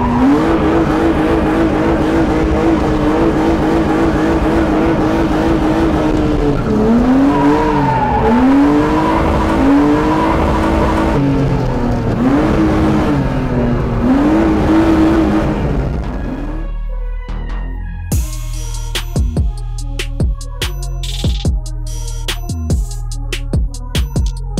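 A Ford Focus RS or BMW E30 330 drift car with a worn limited-slip differential revs hard while its tires squeal in repeated swooping skids, loud and close, before the engine note cuts to sharp bursts and pops.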